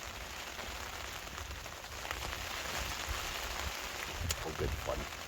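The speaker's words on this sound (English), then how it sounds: "It's like it's pouring the rain, but we're under a tarp." Steady heavy rain drums on a tarp over a wild camp in Scotland, a dense continuous hiss with scattered close drops, alone without talk.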